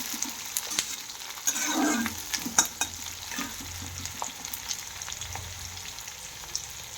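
Onions frying with cumin seeds and bay leaf in a pan for chana dal, with a steady close sizzle and scraping stirring strokes throughout.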